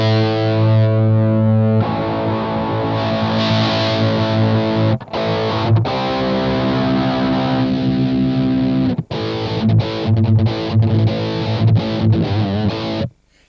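Electric guitar played through a Boss GT-10 full-range amp simulation, heavily distorted, with sustained chords and riffs whose tone shifts as the EQ is adjusted, with a few brief gaps between phrases.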